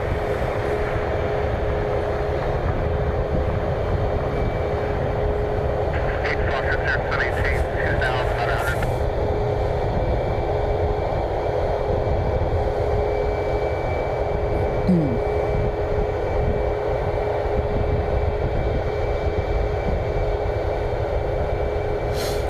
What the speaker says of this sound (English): United Airlines Flight 1184. It's a 737 MAX 8. They are heading to Newark this morning